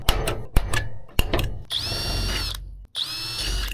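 A power drill bores slowly into an aluminum Mercedes-Benz oil cooler, with short tapping bursts at first and then two longer, steady whining runs separated by a brief pause.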